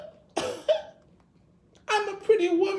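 A voice imitates a dainty, elegant woman's cough: two short, light coughs, a brief pause, then a longer drawn-out run of refined coughing, close and clear.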